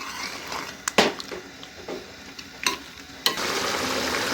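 Chicken fries in a pan with a steady sizzle, broken by a few sharp scraping stirs and clacks of a spoon against the pan.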